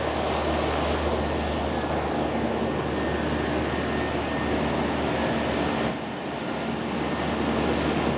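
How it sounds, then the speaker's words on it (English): An air conditioner runs outside a farm and food museum building, a loud, steady broadband whoosh and hum that fills the whole stretch without any talking. "Sorry for the air conditioner noise."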